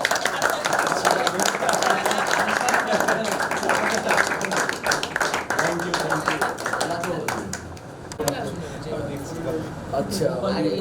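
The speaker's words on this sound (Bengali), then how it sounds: "আচ্ছা, আমরা একটা হাততালি দিতে পারি।" A group clapping hands during a coastal trek gathering for blind students in Gopalpur, Odisha, dense fast clapping near and loud that thins after several seconds, with people talking over it.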